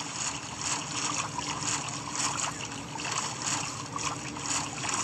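A boat glides across the sea in Minecraft, giving a steady, hissing rush of water and splashing that continues without pause, with no speech.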